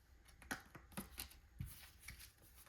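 Tarot cards are gathered and tidied away, with soft close riffling and tapping of the deck in several quick bursts. The sound is quiet and there is no talking.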